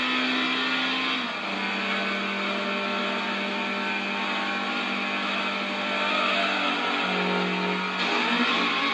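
Racing car engine in the Gran Turismo 2 video game, a steady buzzing drone that climbs and drops in pitch through gear changes, continuous and fairly loud with no talk over it.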